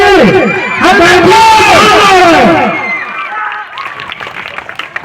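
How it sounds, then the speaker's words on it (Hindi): Crowd applause and cheering at the opening of a new school branch, loud and dense at first and then thinning out, with voices mixed into the clapping. "ताली बजती रहे।"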